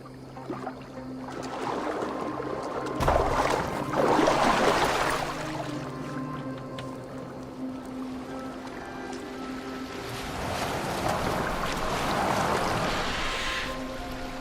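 A boat moves across water in Assassin's Creed Valhalla, with steady lapping and rushing water, swelling in two louder surges over a low continuous background, no voices.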